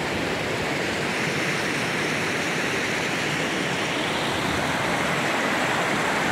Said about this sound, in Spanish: Ahí se ve como unos chorreones con la piedra mojada por donde baja el agua escurriendo hasta la piedra abajo